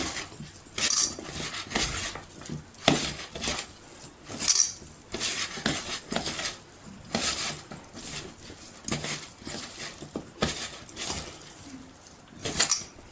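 Ivy gourd pakoda pieces being tossed with spice powders in a bowl, giving repeated light clinks and scrapes of a utensil against the dish, irregular and close, with no voices.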